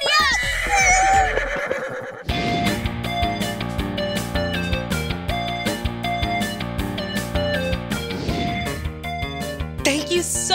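A horse whinnies loudly for about two seconds in a cheerful children's educational show. Bright music with a steady beat then takes over, with a few shorter neigh-like sounds near the end.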